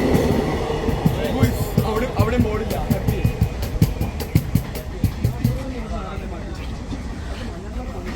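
A train rolls past nearby in Kasaragod with a steady rumble and repeated clickety-clack of wheels over rail joints, loud and continuous, as people talk over it.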